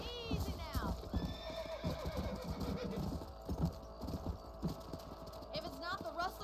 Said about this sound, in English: Me subo al caballo.